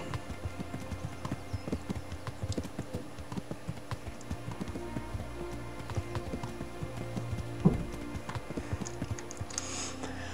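Horse hoofbeats in the video game Kingdom Come Deliverance, a steady clip-clop of hooves repeating throughout at moderate loudness over a low game ambience, with no talking.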